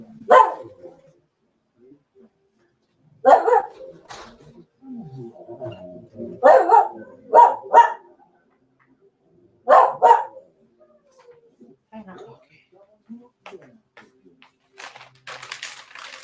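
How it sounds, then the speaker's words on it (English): A dog barks in short sharp bursts, a single bark then doubled barks, separated by quiet gaps with faint rustling and clicks. "Stop barking."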